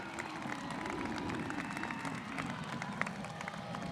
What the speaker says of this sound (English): Graduates, give your folks a round of applause.